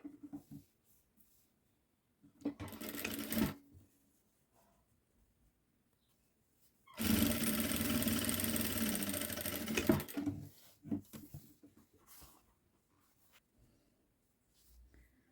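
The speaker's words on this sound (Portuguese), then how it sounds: "Costurando aqui, ó, nessa parte. Passar uma costura aqui, ó." A sewing machine stitches a boys' children's outfit in two separate runs, first a short burst and then a longer steady whir of about three seconds, with quiet handling noises in between.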